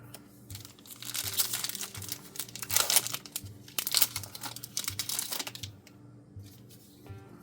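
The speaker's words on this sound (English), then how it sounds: "We'll put the foil stacks together." Foil card packs for the Overpower card game being handled and rearranged into stacks: close crinkling and rustling of foil wrappers in irregular bursts, with soft taps and clicks as packs are set down.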